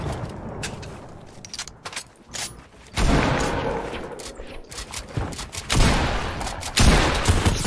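Video game sniper and rifle fire in a shootout, a string of sharp, close cracks at irregular intervals, with denser bursts of overlapping shots and rumble in the second half.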